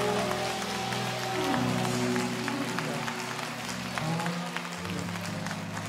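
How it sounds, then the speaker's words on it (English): A church congregation claps hands together through a lively worship moment, a steady dense patter of many hands under sustained organ-like tones and crowd noise, continuous for the full stretch. "Come on, clap your hands and thank God."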